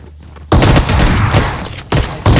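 Loud, dense bursts of rapid gunfire from a video game in a competitive LAN esports match, opening after a quiet half-second and running almost continuously with brief gaps and a final burst.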